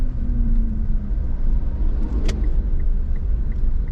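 Heavy road traffic of cars in San Fernando City, Pampanga, a steady, close, low engine rumble that holds throughout with no letup.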